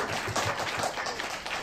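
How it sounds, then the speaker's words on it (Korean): Cinema audience at a Korean premiere screening of the film Good Stripes gives a brief, fairly faint round of applause, scattered clapping heard at some distance, lasting under two seconds. "박수 부탁드릴게요"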